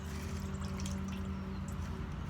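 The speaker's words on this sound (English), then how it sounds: "I put my water in." Water poured into a shallow cake pan, a soft steady trickle and splash running for a couple of seconds over a constant low background hum.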